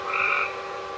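A close frog or toad call rises and fades in a single short burst at night in an Appalachian rainforest camp, set over a steady background hum from a swamp cooler.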